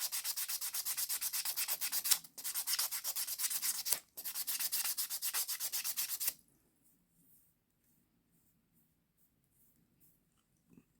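Hand file rubs an acrylic nail on its finer grit side in rapid, steady back-and-forth strokes, close and continuous for about six seconds with two brief pauses, then stops into near silence.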